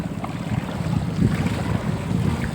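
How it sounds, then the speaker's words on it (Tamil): Flowing water of the Thenpennai river, a steady broad rushing wash with low rumbling turbulence and wind buffeting the microphone, continuous and fairly loud throughout with no voices. "அந்த தென்பெண்ணையாருடைய சத்தம் இப்படி கேட்கும் பாருங்கள்"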